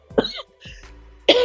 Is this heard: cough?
yes